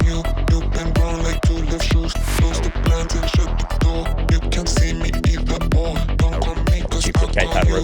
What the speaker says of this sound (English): So the first drop in its kind of bare form sounds like this.